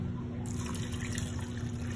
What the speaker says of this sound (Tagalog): Tapos lagyan natin ng konting tubig lang.